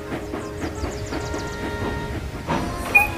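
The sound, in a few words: train engine approaching in Roblox video game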